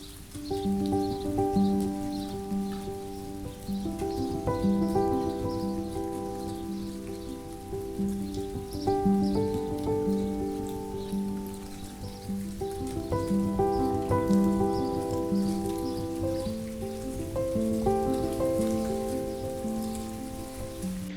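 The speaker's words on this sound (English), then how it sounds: "We are always so glad when it rains" Steady rain falls on a cottage garden and its beds, a soft continuous patter of drops that stays even throughout, with a tonal musical background underneath.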